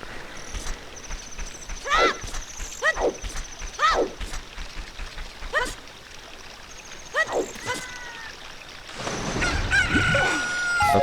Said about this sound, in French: Un poulet est sorti de ton œuf